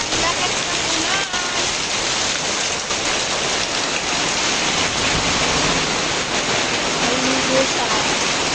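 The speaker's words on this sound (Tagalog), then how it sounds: "Ang lakas ng ulan." Heavy rain pours in a dense, loud, unbroken hiss that stays constant, with faint voices underneath at times.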